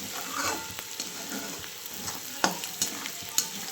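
Soft sizzling of poha in a kadai with scraping, clattering stirs of a spatula at irregular intervals, close by and without any talking.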